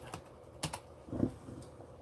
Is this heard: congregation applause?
no